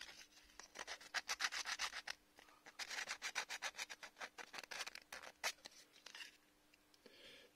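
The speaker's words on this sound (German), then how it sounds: "nehmt ihr euch einfach das Schleifpapier und bearbeitet das Ganze vorsichtig nach." Sandpaper works over a 3D-printed part for a small SMARS robot in quick, rhythmic back-and-forth strokes, a dry scratchy rasp repeated many times up close, ending with a few slower rubs.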